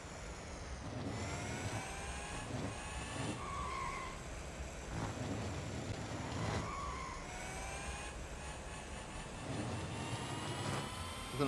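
A racing car lapping the Dubai Autodrome in an autocross event in the Real Racing 3 game, its engine droning steadily with rising and falling tones as gears shift, a faint tyre squeal here and there, no voices.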